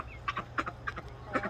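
Backyard hens clucking in a garden, a quick series of short, close calls in an uneven rhythm over a low steady hum.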